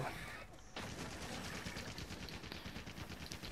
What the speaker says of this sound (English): someone just came out with the freaking heavy bow gun